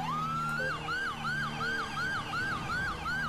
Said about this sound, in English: I'm not sure whether the MI5 actually use blue light vehicles with this type of siren as well.